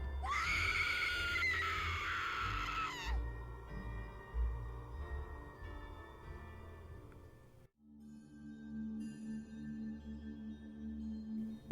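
A woman's high, sustained screams ring out loud for a few seconds, followed by a tense, droning musical backdrop with shifting tones.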